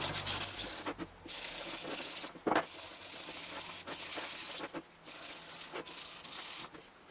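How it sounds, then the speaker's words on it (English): Rust being rubbed off a metal part of a lathe servomotor drive, a steady close abrasive scrubbing in long strokes broken by brief pauses and a sharper scrape. "I need to take the rust off, any rust off here"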